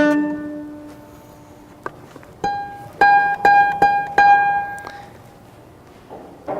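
Several plucked string notes, the string divided at one third of its length, ring out one at a time, bright and resonant, each decaying slowly before the next, with a short gap between groups.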